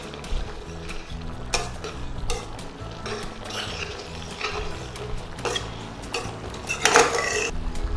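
Spoon stirring fish sauce into a pot of Thai red curry with duck and pineapple: steady scraping and clinking over a soft simmering sizzle, with a louder scrape near the end and no talking.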